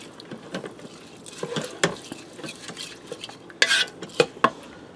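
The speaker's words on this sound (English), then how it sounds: "I'm going to give that a stir." A spoon stirs beef broth and canned French onion soup in a pressure cooker pot, with a wet swish, scrapes and a few louder metallic knocks toward the end, close by.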